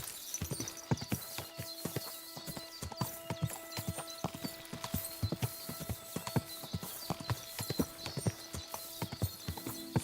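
Horse hooves clip-clopping at a steady walking pace in the medieval game Kingdom Come Deliverance 2, close and distinct with a brief whinny; no talking.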